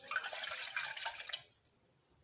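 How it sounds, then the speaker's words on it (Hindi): Water from a glass pours into a saucepan, a bright splashing gush for about a second and a half that tapers off into near silence, close and alone without talk. "कोई भी आप देगची या सॉस पैन दीजिए, उसमें आप डालें 1 गिलास पानी।"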